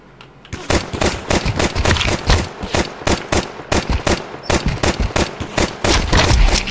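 Rapid gunfire from the video game Counter-Strike 2 rattles out in loud, dense bursts of automatic shots. The volleys repeat almost continuously, with only brief gaps between them.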